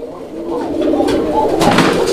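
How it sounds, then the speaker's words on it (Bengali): A male pigeon coos nearby, a low, rolling throaty call that swells toward the end, loud and close with no other voices. "দর্শক বন্ধুরা নরের ডাক দেখেন"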